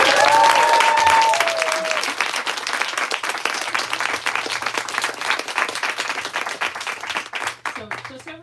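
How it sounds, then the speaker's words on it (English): Audience at an author book talk gives a sustained round of applause, dense and even at first, then thinning and fading, with a brief voice near the end. "give Crystal one more round of applause."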